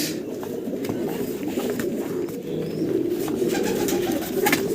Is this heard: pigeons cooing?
yes